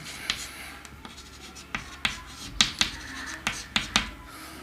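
Someone writes during a chemistry lesson on chemical kinetics. Quick, sharp scratching strokes come in an irregular rhythm, close and fairly quiet, with no speech.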